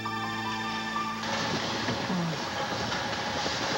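A train rolls along on its rails, a steady rumbling wash of wheel noise with faint rhythmic clatter, following a brief held tone at the start.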